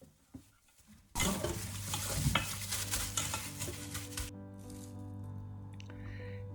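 Pork ribs are mixed by hand with spoonfuls of gochugaru, Korean chili flakes. After a quiet start, wet squishing and sticky slapping sounds run close and steady for several seconds, then ease off.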